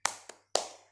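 Three sharp hand claps in a quick rhythmic pattern for a children's cheer (tepuk semangat), close and bright, each clap ringing out briefly.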